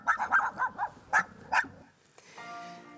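A dog in a park dog area in Plovdiv's Severen district barks several times in quick succession, loud and close, before the barking gives way to a quieter, steadier tone.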